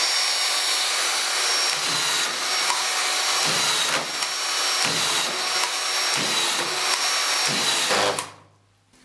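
A corded autofeed drywall screwdriver, set to minimum speed with 35 mm depth, drives screws into gypsum board: a loud, steady motor whine broken by about six short grinding bursts as each screw seats, then the motor cuts off.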